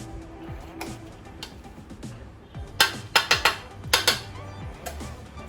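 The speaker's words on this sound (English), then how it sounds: "I'm going to give it a bit of a stir to get all the bits of leaves off the sides." Vegan pesto stirred in a pot, a spoon scraping and knocking against the sides in a run of sharp clinks and clatters, loudest in a cluster near the middle, with low kitchen hum beneath.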